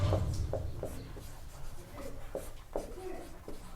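Pen or marker strokes on a board or paper during a Class 12 maths lesson on differentiation, a series of short scratchy strokes at a steady, uneven rhythm, close and fairly quiet with faint room noise.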